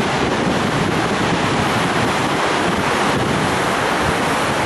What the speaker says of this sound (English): look at this water, it's just quite phenomenal as it moves down through the spillway tract here